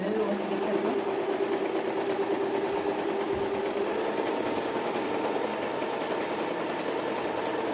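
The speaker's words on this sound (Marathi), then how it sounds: "आता मी माझ्या छोट्या शिलाई मशीनवर बसलेलं आहे" A small sewing machine stitching fabric in a steady continuous whirring drone, close and loud throughout, with a faint hum in the background.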